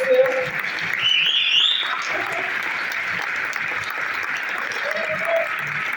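Audience applause at a film premiere gala keeps going steadily under the host's amplified voice, with a few whistles cutting through the clapping.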